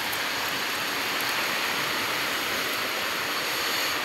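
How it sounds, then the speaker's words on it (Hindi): Strong wind blows across a village during a rainstorm, making a loud, steady broadband roar that persists without a break and carries no voices. "देखिए ये केते जोर पवन हो"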